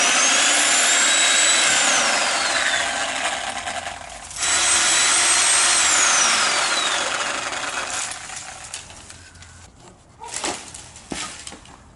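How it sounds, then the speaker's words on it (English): A Sawzall reciprocating saw cuts out wood on a reclaimed window and wood greenhouse, a loud close rasping buzz with rising whine, pausing briefly midway, then stopping to scattered knocks and clatter. "Sawzall. It's gonna make quick work of this."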